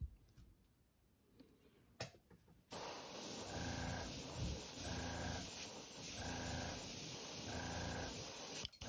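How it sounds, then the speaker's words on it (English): An airbrush sprays metallic white paint along the belly of a shiner fishing lure. After a quiet start it becomes a loud, steady hiss with a soft, regular pulsing that lasts about six seconds. "And just spray a bit along the belly."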